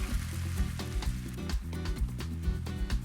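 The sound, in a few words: stir-frying green onions in a pan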